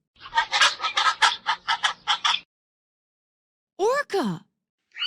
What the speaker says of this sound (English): Pelican.